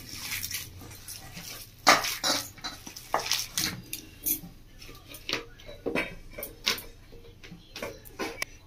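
Chicken leg pieces being hand-mixed with spices and chopped onion in a bowl: irregular wet squelches and clinks against the bowl, close up and fairly quiet, with no talking.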